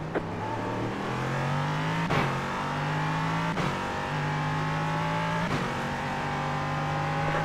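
LMP3 and GT4 race cars in a VR sim racing game drone loudly and steadily, with rising engine pitch through the gears and sharp upshift breaks every second or two.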